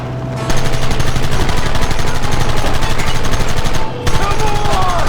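Rapid, dense gunfire in Red Dead Redemption, loud continuous bursts of shots with a brief pause before it resumes, over a steady low rumble of the game scene.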